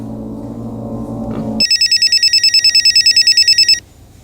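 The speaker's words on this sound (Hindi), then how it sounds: "फोन बज रहा है, फोन उठाओ।" An indoor telephone rings in a TV crime drama, a loud, close electronic ring with rapid pulses lasting about two seconds, following a low steady hum.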